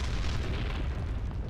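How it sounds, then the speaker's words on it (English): Black Doom blowing up in a Sonic video game as a stock explosion: a dense, roaring boom with heavy low rumble that holds loud and steady for the whole stretch without a break. "Also, I love that he blows up like a stock explosion like the Death Star in the original Star Wars."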